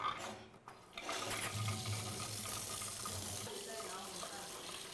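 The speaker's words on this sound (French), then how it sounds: "Je vais laver le poisson." Running tap water splashes steadily over fish being washed in a sink, a continuous hiss and patter that stays close and fairly loud for several seconds after a brief quieter start.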